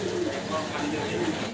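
Pigeons kept for sale coo steadily up close, a soft rolling low-pitched murmur that rises and falls without a break.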